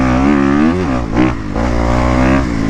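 A Kawasaki KX250 dirt bike engine revs hard while riding in sand, the loud raspy two-stroke-like note rising and dipping through throttle blips and brief drops, close and continuous with no talk.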